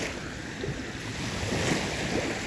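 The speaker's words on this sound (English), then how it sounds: "the water making its classic sound" Waves washing onto the shore at West Beach in Miller Beach, a steady broadband surf wash with light wind noise, continuous and fairly close, swelling slightly toward the end with no talking.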